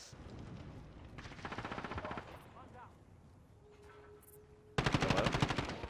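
Video game gunfire from Call of Duty comes in rapid bursts of automatic shots, one burst early and a louder one at the end, with a player talking between them.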